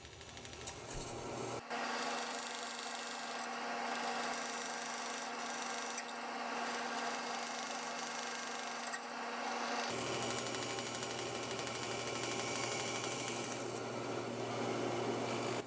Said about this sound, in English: I'm going to finish cutting the tails over at the bandsaw